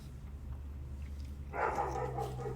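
Dogs bark indoors, muffled and fairly faint, in a short burst that starts partway through over a steady low background hum.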